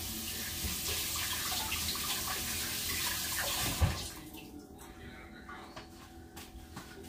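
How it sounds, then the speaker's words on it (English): Tap water runs hard over catfish in a sink, a steady splashing rush that cuts off abruptly after a few seconds, leaving faint drips and kitchen noise. Someone talks over it. "let me rinse this off real quick"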